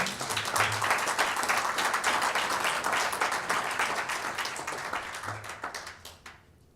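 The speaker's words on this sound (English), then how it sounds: "You can go ahead and clap for that." An audience at a Black History Month luncheon applauds, brisk crowded clapping that stays strong and then gradually thins out and fades near the end.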